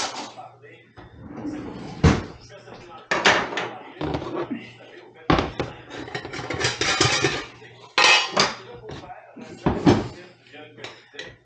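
Spoons and utensils clatter and clink while being rummaged through in a kitchen, with cupboard and drawer bumps in irregular loud bursts, and a person speaks between the clatters.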